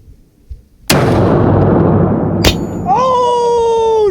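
A Sig Sawtooth rifle chambered in 300 PRC fires one sharp, very loud shot that booms and rolls away outdoors, followed by a second crack and a ringing, whistling tail.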